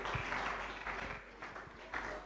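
An audience applauds a speaker at a university registry training programme, giving steady, moderately faint clapping that carries on without a break.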